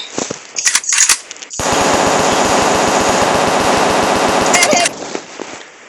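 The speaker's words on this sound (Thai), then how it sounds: "ปืน นี่แหละรัวแบบนี้ค่อยถูกใจหน่อย" A machine gun in a video game fires a long, rapid, unbroken burst, loud and close, bracketed by short bursts of gunfire before and after.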